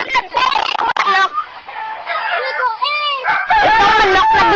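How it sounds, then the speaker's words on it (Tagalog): A rooster crows and chickens cluck loudly nearby in a busy, overlapping chorus of calls. "Ito yung manok."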